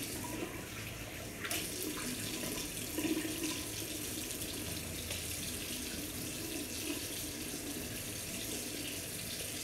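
Hot water pours steadily from a sink tap in a continuous close splash, with a brief clatter partway through and no talking.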